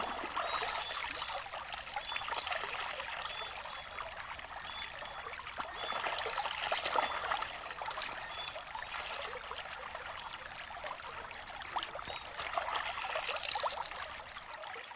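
Stream water flowing steadily at a rural Jamaican countryside outdoor shower spot, a constant close hiss and trickle with no talk, level throughout.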